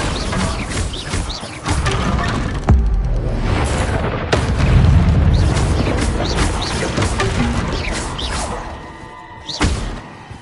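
Bombarda blasting spells go off in the Hogwarts Legacy video game: a few sharp impacts followed by rumbling booms and whooshes, loud and close, with a thick low roar swelling in the middle before fading.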